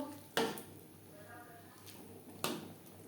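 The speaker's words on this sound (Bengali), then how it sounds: "গ্রেভির সাথে মাছ বেশ ভালো করে মিক্সড করে দেব" A spoon clanks sharply against a pan twice while fried prawns are stirred into jackfruit curry gravy, with quiet scraping in the gaps between the two knocks.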